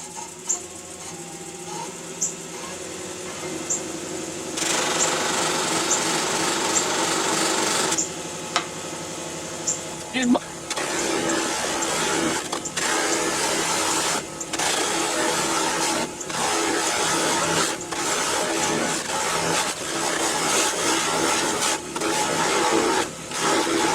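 A wood lathe spins up to speed with a piece of spalted oak mounted, giving a steady broadband whir and rasping rush that starts softer, rises around five seconds in and runs loud and continuous to the end, with no talk.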